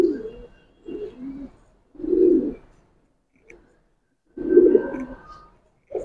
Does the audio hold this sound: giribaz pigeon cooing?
yes